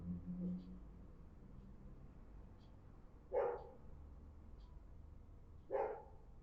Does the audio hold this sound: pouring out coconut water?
no